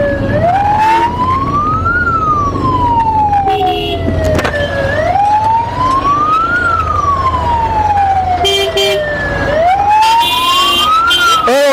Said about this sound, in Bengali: একটা অ্যাম্বুলেন্স হর্ন দিচ্ছে